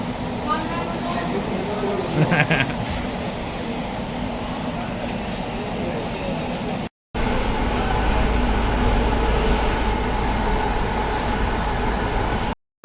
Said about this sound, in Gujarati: ચલો ભાઈ સાહેબ ટ્રેન ઉપડી ગઈ છે